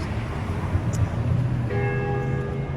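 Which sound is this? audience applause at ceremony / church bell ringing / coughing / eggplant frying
church bell ringing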